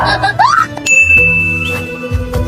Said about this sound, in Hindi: ये किसका फोन आ रहा बार बार?